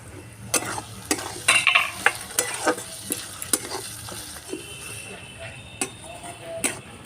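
Onions fry in a pan with chopped tomato added: a continuous sizzle with irregular clicks and taps from a stirring spoon against the pan. It sounds close, with a faint tonal bit in the background.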